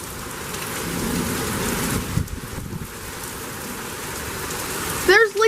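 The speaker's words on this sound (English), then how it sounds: "legit rain sheets." Heavy rain pours down in sheets during a thunderstorm with gusty winds, a loud, steady roaring hiss close around, with a brief gust surge midway and a short voice breaking in at the end.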